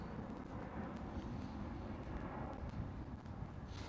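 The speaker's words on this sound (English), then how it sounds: "next one up is SAS, Scandinavian Airlines Systems, with a CRJ" An SAS Scandinavian Airlines CRJ regional jet runs at Amsterdam Schiphol airport, its steady engine rumble faint and distant, mixed with wind buffeting on the microphone throughout.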